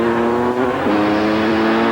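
A Honda motorcycle engine revs steadily before a ramp jump, a loud, close drone holding a sustained pitch that dips briefly and then climbs again.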